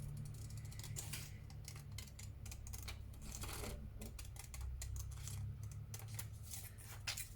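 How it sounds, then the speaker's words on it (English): Paper being trimmed for a flower mosaic postcard, a run of quick crisp snips and cutting clicks in steady bursts over a low constant hum, close and fairly quiet, with no talking. "Let's trim that properly now."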